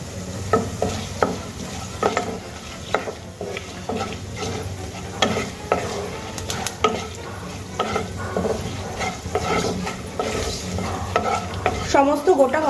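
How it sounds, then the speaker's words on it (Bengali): Whole fenugreek and coriander seeds crackle and sizzle softly in a pan while a spoon scrapes and stirs them in repeated strokes, a close and steady frying sound with no talking. "সমস্ত গোটা মশলাগুলো আমি হালকা করে ভেজে নেব।"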